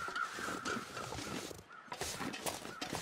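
Crows caw in the survival video game The Long Dark, several harsh calls repeating over a steady outdoor wind-like ambience, moderately near and unaccompanied by talk.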